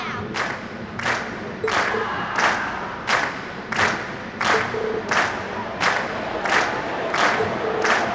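In the video game Trails of Cold Steel, a concert crowd cheers with a steady crowd roar, punctuated by regular rhythmic thumps or claps about every 0.7 seconds, continuing without pause.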